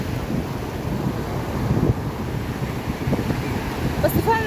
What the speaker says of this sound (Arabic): زي الموجة الحلوة دي كده